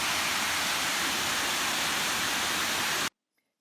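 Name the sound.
Brandywine Falls waterfall in Cuyahoga Valley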